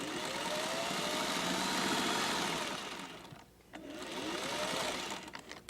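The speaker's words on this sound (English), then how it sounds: "once you have machine stitched" A sewing machine stitches rickrack onto a quilt with a continuous fast mechanical whir and rattle that slows briefly midway before resuming, loud and close.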